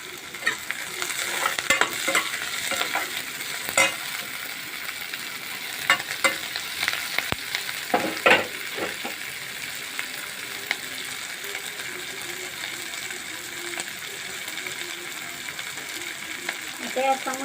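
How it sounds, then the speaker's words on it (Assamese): Chilli chicken with chopped capsicum frying in a pan, a continuous sizzle broken by repeated scraping stirs of a spoon against the metal, close and fairly loud. "অকণমান ভাজি লোৱাৰ পিছত ইয়াতে মই কেপচিকাম দুটা সৰু সৰুকৈ কাটি লৈছিলোঁ।"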